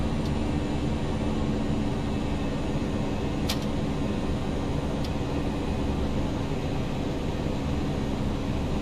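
Steady, dense roar of Airbus A319 jet engines at climb thrust in the X-Plane flight simulator, an unbroken broadband drone with two faint clicks partway through.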